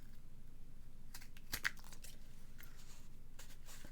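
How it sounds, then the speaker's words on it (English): Scissors snip across the top edge of paper on a paper-craft wallet, giving a few short, crisp cuts at close range over a faint background hiss. "I can just snip across the top and level that out."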